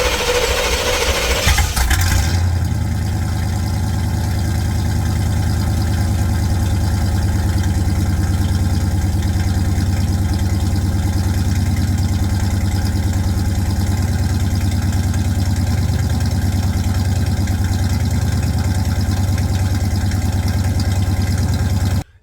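A car engine cranks briefly and catches after a jump from a ZEVZO 1000A portable jump starter, then settles into a loud, steady, close idle that runs evenly for about twenty seconds.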